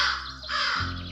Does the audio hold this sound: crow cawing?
yes